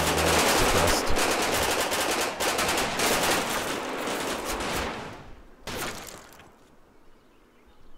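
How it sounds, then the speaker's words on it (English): Dense, sustained bursts of Sten submachine gun fire rip through a Normandy battle in the Combat Mission wargame, rapid overlapping rattles at close range that thin out into a few scattered shots and a final isolated burst. "You can see those Stenfins just absolutely destroying this German infantry at close range"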